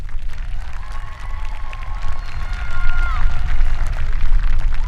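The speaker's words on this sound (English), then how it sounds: "Another round of applause, please." A graduation crowd at Valley Oak High School applauds, with rumbling low noise and cheering mixed under the clapping, and a sustained whistle-like tone rising through the middle; the crowd noise grows louder toward the end.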